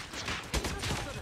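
A gunshot in the mobile shooter Call of Duty Mobile, fired from a .50 GS pistol: a single sharp report mid-clip within a dense wash of game noise.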